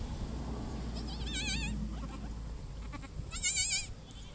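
Goats bleat in wavering, quavering calls, one in the middle and a louder one near the end, over a steady low rumble.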